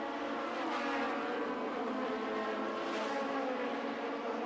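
Formula Atlantic race cars at Calgary in 1990 drone steadily at a distance, a continuous engine roar with a slight swell partway through and no voices.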